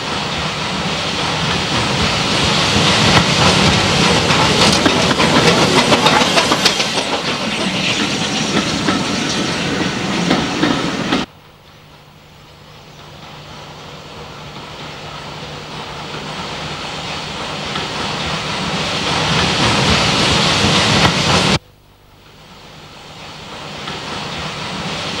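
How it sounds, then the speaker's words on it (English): Beyer Peacock veteran narrow gauge steam train rattling through orange groves on a Spanish coastal plain, a steady loud clickety-clack of carriage wheels that cuts off abruptly twice, with no talk. "the Bayer Peacock veterans rattle through the orange groves, covering the fertile coastal plain"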